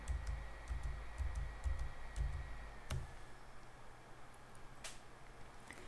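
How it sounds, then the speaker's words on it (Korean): A computer keyboard is pressed for Ctrl+Z while working in a garment pattern simulation program, giving a few faint, sharp clicks against low steady background hiss. "키보드 컨트롤 Z를 사용해서 이전 작업 상황으로 돌아가 볼게요"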